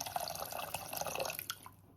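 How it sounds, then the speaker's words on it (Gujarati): Water poured into a cooking pot of moraiyo, a steady close splashing and trickling stream for nearly two seconds before it stops, no talking. "હવે પાણી મૂકી દઈશું આમાં"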